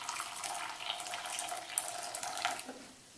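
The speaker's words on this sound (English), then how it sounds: "the way that I do this is I just put hot water in my bowl" Hot water pours steadily into a bowl, a soft continuous splashing hiss that fades out at the end.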